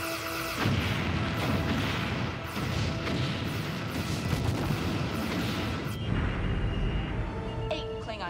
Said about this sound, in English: Ready odd-numbered launchers. Fire!